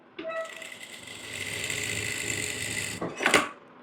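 A sewing machine stitches a pocket on ladies' pants, one steady close run of mechanical whirring for about three seconds, ending in a brief louder clatter.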